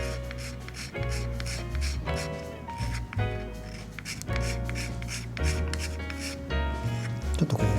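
A file rasps over hardened 510 instant adhesive putty in rhythmic back-and-forth strokes, close and steady, with a faint voice in the background.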